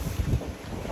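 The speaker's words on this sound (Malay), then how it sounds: "Cuaca agak sambut dengan angin dengan hujan." Wind buffets the microphone aboard a fishing boat out in windy, rainy weather, with a steady low rumble and gusty roar throughout and no voices.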